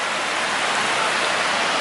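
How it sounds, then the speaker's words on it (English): Waterfall in a forest creek, a steady, loud, broadband rush of falling water with no pauses. "this waterfall, I'm feeling real good about"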